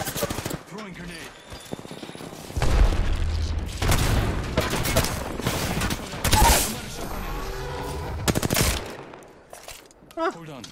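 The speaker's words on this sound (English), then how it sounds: "Throwing grenade." Grenade blast and gunfire in a first-person shooter video game, heavy booming bursts and rapid volleys of shots that come and go over about ten seconds, loud and close, with game sounds throughout.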